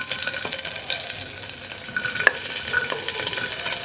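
Cut vegetables, including potato but not capsicum, stir-fry with fennel seeds in a pan for a vegetable kurma. A steady close sizzle carries soft scraping stirs and a single sharp utensil click, with no speech.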